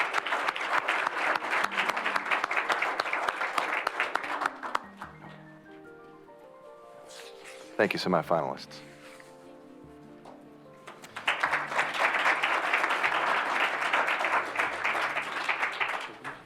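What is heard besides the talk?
applause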